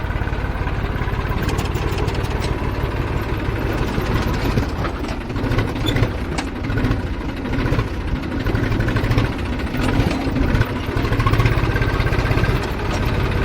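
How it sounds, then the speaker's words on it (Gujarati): A tractor engine idles steadily throughout, a low rumbling chug with constant vibration and no voices. "હાલો ભાઈ, ટ્રેક્ટર તો ચાલુ કરી લીધું."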